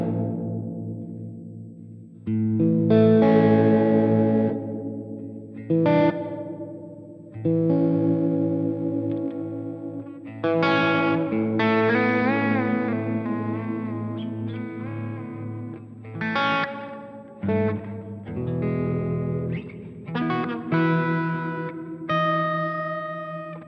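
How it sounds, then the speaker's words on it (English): Guitar notes and chords pass through the modulated stereo reverb of a Sonicake Matribox 2 multi-effects unit, each phrase swelling with a wavering, chorus-like shimmer and a lingering tail between short pauses. "Yep, some sort of modulation on there, which is weird because now there is modulation reverb."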